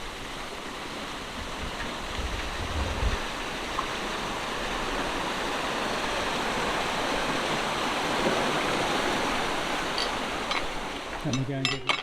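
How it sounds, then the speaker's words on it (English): Water rushing into the top lock of a canal, a broad steady roar like a small weir, loud and continuous, with a brief thump near the end. "So we're just filling the top lock."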